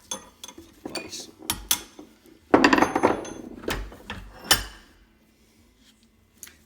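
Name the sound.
hammer striking Stihl MS180 chainsaw flywheel held in a vise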